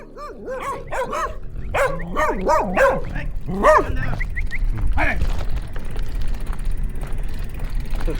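Several dogs bark in a rural area as a cyclist rides past, with a burst of sharp overlapping barks and yips early on, then fading into quieter outdoor background and some nearby talk.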